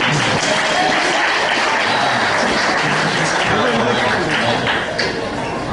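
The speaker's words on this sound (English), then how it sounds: "Alright, let's get a little bit of applause" Comedy club audience applauding and cheering as a stand-up comic is brought to the stage, a loud continuous wash of clapping mixed with crowd chatter throughout.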